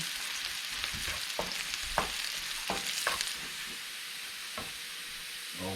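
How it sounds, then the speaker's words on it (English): Garlic frying in a pan until golden brown gives a steady close sizzle and hiss, broken by several short scraping stirs spread through the clip, with no talk. "Cook the garlic until it's turned a little golden brown."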